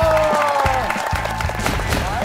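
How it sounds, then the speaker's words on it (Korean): A Korean TV talent show studio audience applauds, with loud clapping and cheering layered over music and voices. "박수 부탁합니다"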